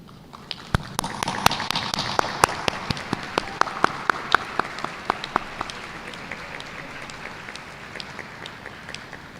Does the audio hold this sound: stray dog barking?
no